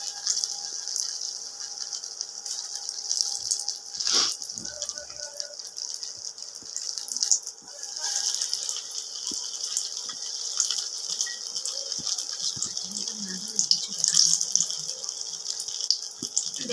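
Banana flower chops frying in hot oil, a steady bubbling hiss running close and continuous throughout, broken by a few louder bursts and soft knocks.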